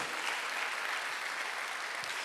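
A church congregation at a Sunday worship service breaks into steady, dense applause that fills the whole stretch at an even level, with no voice over it.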